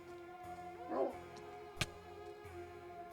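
A faint yip from a dog-like goat mob in Minecraft Vault Hunters, a short whimpering call followed by a sharp click, heard quietly and alone.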